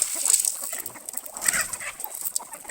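Hens and roosters at a Thai home farmyard, males and females of various ages, clucking in a loose, irregular stream of short calls at moderate distance, with no talking.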